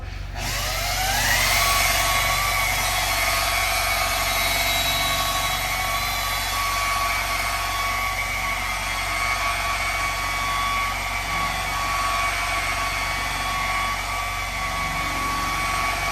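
Rotary buffer spinning at about 1400 RPM while polishing with rubbing compound, a steady, loud motor whine that ramps up over the first second and then holds an even pitch and level throughout, with no talking.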